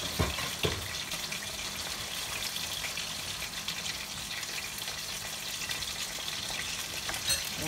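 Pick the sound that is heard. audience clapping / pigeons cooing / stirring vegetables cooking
stirring vegetables cooking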